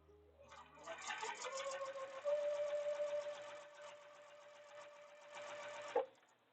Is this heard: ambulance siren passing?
no